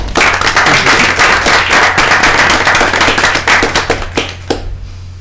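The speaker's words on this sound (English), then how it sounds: "I'd like to give you a round of applause" A meeting room of a Parks and Recreation Advisory Committee breaks into a loud, dense round of applause for the mayor, sustained clapping that thins out and fades near the end.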